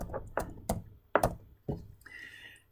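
Several separate keystrokes on a computer keyboard, close and distinct, with short pauses between them, followed by a faint high tone at the end.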